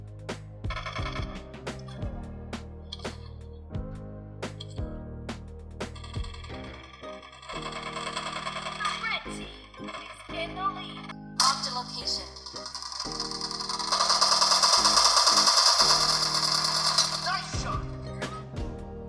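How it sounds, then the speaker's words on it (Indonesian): PUBG Mobile being played on a Samsung Galaxy A11 at smooth graphics and high frame rate settings, with busy game music, clicks and jingling interface chimes, then a rising burst of noisy in-game effects toward the end. "contoh gameplay singkat saat bermain game dengan setting smooth high di Samsung Galaxy"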